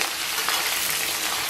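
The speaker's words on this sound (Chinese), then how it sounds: "咱们把切好的葱姜蒜给它下到锅中" Chopped scallion, ginger and garlic hit warm oil in a wok, giving a steady close hiss of frying that holds level and unbroken throughout.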